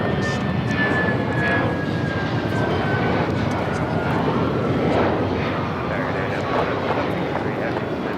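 Airliner engines roar loud and steady during a go-around at Los Angeles International Airport, a broad continuous jet rush with a faint high whine, while people talk over it.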